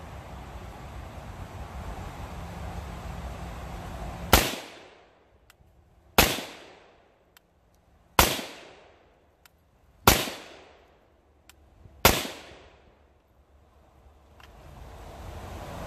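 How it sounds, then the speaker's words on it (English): Five loud slow-fire rifle shots through a VG6 Epsilon muzzle device crack out about two seconds apart, each with a short ringing decay into quiet between rounds. "So here are my slow fire shots."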